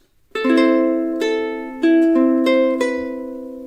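Ukulele picking out a melody, five clear plucked single notes in a slow, even phrase, each ringing briefly, played close and alone.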